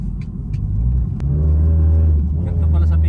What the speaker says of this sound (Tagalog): First time natin mag-drive ng Ford Mustang